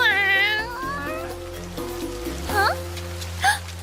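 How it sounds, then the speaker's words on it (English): Stray cat caught in sudden heavy rain, drenched and shivering, gives a long wavering meow followed by two short cries, close and clear over a steady hiss of rainfall and a low background tone. "found a stray cat drenched in rain and shivering"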